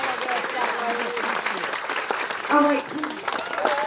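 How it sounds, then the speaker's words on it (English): Warm crowd applause at a Bonita Springs community gala for the volunteer committee, steady clapping running under a man's brief spoken remark and other voices. "Let's give you a round of applause."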